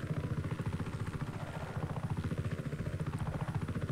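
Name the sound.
helicopter flying in the video game Just Cause 3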